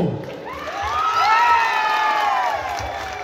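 An audience at an Odia stage play cheers and whoops with rising shouts, joined by scattered clapping, loud and lively throughout.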